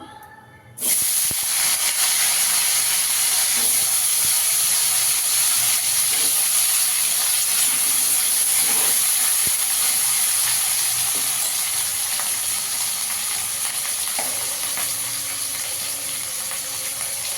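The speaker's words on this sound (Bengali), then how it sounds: "আলুগুলোকে একটু ভেজে নেব।" Potatoes hit hot oil in a pan and erupt into a loud, sustained hissing sizzle that starts abruptly and holds steadily, close up, with a few faint clinks of a spatula.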